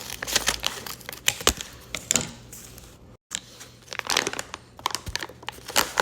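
Scissors cutting open a sweet cinnamon coffee package, close crinkling and crunching of packaging in repeated bursts, with a brief pause in the middle.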